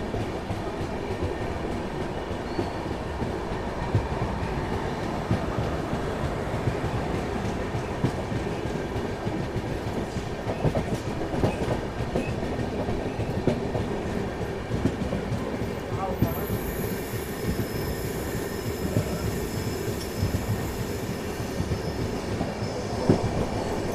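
The Bhubaneswar Express runs at high speed between Delhi and Kanpur, a loud, continuous roar of wheels on rails with rhythmic clatter and a high squeal rising near the end, heard from on board.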